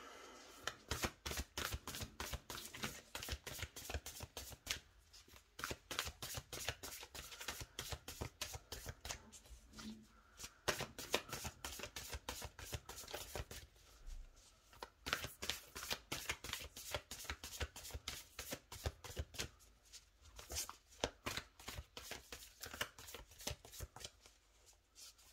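A deck of cards is shuffled close up for a weekly reading, giving soft rapid riffling and flicking in repeated bursts that continue steadily throughout.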